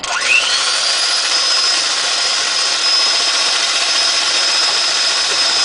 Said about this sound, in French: Donc, je pars mon batteur.